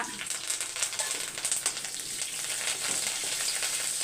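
Mustard seeds, cumin, crushed garlic and curry leaves crackle and sizzle steadily in hot oil, a dense close hiss with sharp popping spits throughout, cooking for a Tamil home meal.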